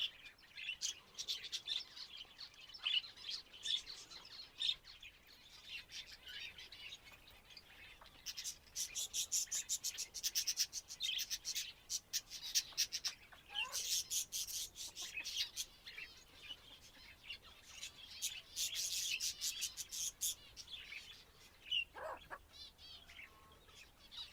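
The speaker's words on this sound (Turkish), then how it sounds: "Yine muhabbet kuşlarım geldi." Budgerigars at an outdoor coop, chirping and chattering in busy bursts of high twittering calls throughout, moderately near, with occasional other birds and faint background sounds.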